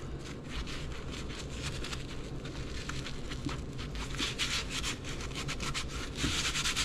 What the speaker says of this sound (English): make sure you scrub in the screw holes because dirt will hide in there